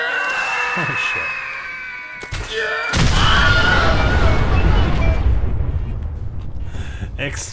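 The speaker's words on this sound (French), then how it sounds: "Fucking explosions everywhere" Explosions in Fallout 4 hit as a sudden loud boom that rolls into a long, rumbling blast, after a stretch of tonal game sound, with a brief swell of noise before the main burst.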